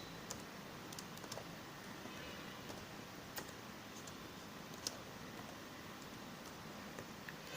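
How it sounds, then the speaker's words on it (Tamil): Someone types five lines into a Microsoft Word document on a computer keyboard, producing faint, scattered key clicks over a low room hiss. "இப்போ நான் ஒரு 5 லைன் டைப் பண்ணுறேன்."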